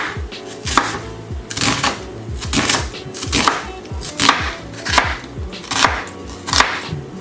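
A knife chops through half an onion on a cutting board, giving about nine sharp, evenly spaced strikes, close and distinct with no talk.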